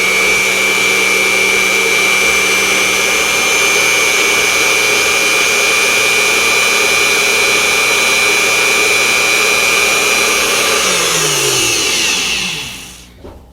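Unimat SL1000 lathe at 685 RPM making a second facing pass on 1144 steel, a loud, steady motor whine with a thin cutting tone that holds, then winds down over the last two seconds.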